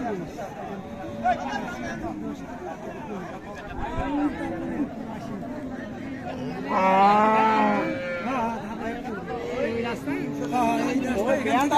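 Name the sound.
Friesian cow mooing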